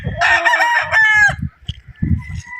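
A young gamecock at a game farm crows once, close and loud, a long rising-then-falling call, with some low thumping and murmur in the background.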